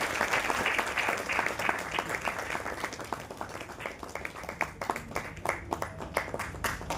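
An audience claps to welcome guests being honoured with shawls and mementos at a Delhi Bishop's Council gathering, a steady dense round of applause lasting the whole stretch, fairly close and even, with a few individual claps standing out toward the end.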